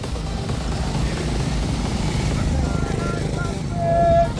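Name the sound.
many motorcycles arriving at a rally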